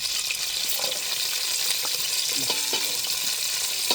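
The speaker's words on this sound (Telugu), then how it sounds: "ఉల్లిగడ్డలు బాగా వేగిపోవాలండి" Onions frying in a pan as the base for a country chicken soup, giving a continuous, close, even sizzle with small crackles and occasional utensil clicks.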